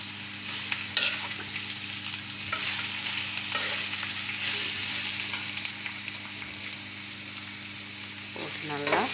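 Ridge gourd peel with ginger stirred and sautéed in a pan, a steady close sizzle with scraping strokes throughout, no voices.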